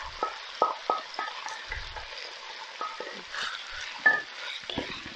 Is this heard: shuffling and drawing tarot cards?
no